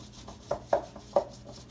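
A hand rubs stuck flour off the side of a mixing bowl while making fry bake dough, giving soft, close scraping strokes in a loose rhythm of four or five brushes.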